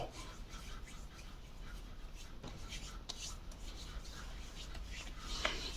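Hands rub and work Denim shaving cream into a lather, a soft, continuous wet rasping that is faint and close, with no voices.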